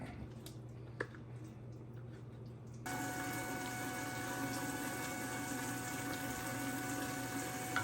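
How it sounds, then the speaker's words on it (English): A pepper hot sauce mixture is poured from a container into a pan, giving a steady, close liquid rush that starts abruptly and continues without talking. "now I'm going to transfer it to this dish here, or to this pan"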